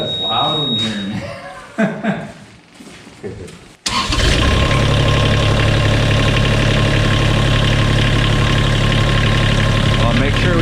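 A CAT 303 mini excavator, just serviced, fires up suddenly after some speech and settles into a loud, steady diesel idle that runs unbroken to the end.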